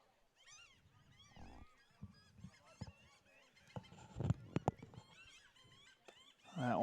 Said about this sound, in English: we got a flock of seagulls over the top of us.